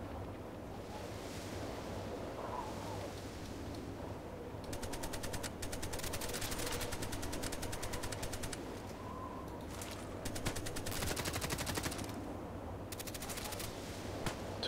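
Bursts of automatic gunfire rattle in rapid volleys in the online shooter Contract Wars on the Site map, some stretches dense and others sparse, over constant ambient background noise.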